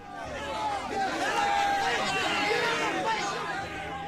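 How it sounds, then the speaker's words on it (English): A crowd shouts at a heretic's trial in a video game, a dense babble of many voices calling out together that swells in the middle and eases toward the end. "The crowd begins to shout,"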